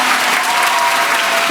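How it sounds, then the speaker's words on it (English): An audience claps for four choir soloists at a community schools all-city choir concert, a dense, loud burst of applause sustained evenly across the moment. "Give those 4 ladies a big round of applause, please."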